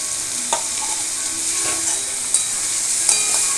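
Garlic paste fries in a hot pan, giving a loud, continuous hiss of sizzling oil with a few faint stirring scrapes and light pops through it.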